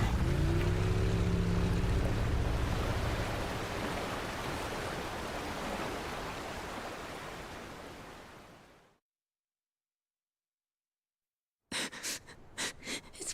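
Boat engine running at full throttle in a Yakuza video game, a loud, dense roar with splashing water that fades to silence, followed by a few brief sharp sounds.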